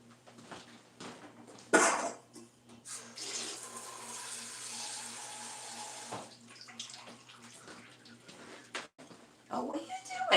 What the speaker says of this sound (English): I'm going to go add a little more water.